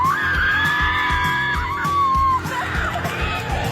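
University students at the NU MOA campus of National University Philippines give loud, sustained high-pitched shouts and shrieks of cheering at a business conference for aspiring entrepreneurs, rising and falling over a steady din of crowd noise.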